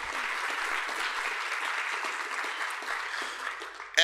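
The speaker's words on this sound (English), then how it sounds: "Let's give them a round of applause for their support and their leadership." An audience at an MLK Day celebration gives a steady round of applause, a fairly soft, even wash of many hands clapping that holds throughout without talk over it.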